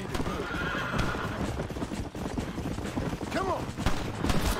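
Horse in the Red Dead Redemption video game galloping with rapid, continuous hoof clip-clops and a neigh partway through, loud and close, amid gunfire and other game effects.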